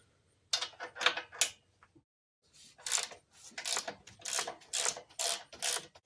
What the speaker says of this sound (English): Now let's loosen our drain plug.